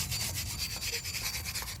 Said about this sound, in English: You just get a steel brush and you're gonna knock off all the high spots,